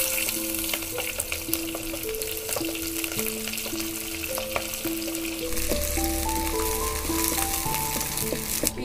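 Cumin, garam masala, onion and garlic go into hot oil in a village-style paneer sabji, sizzling steadily and evenly from start to finish beneath a melodic musical backing.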